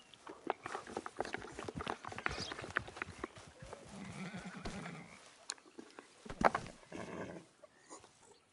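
A Mustang horse in the Red Dead Online video game neighs and whinnies, with clip-clop hoofbeats and scattered thuds. The sounds are close and fairly loud, with no voice over them.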